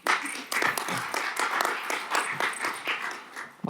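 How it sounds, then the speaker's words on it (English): A conference audience at a university entrepreneurship session claps for a few seconds, with fairly close, uneven hand claps coming in irregular bursts. "Round of applause, please."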